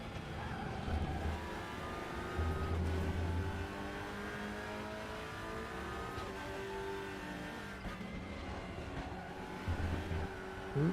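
A Cupra TCR race car in the RaceRoom sim snarls through the gears, its engine note rising and falling steadily over continuous tyre and road roar, with no talking.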